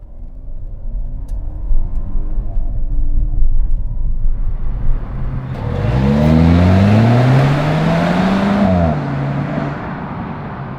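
A lowered Volvo V90R station wagon accelerates hard, its engine note rising loud and close from a steady interior rumble into a strong revving climb, then easing off.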